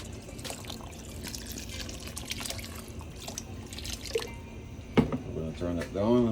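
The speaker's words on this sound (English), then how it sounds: "then we're going to add some water." Water poured into a pot of rice and peas cooking with thyme, salt and butter, a steady splashing pour under ongoing kitchen sounds, with a voice speaking near the end.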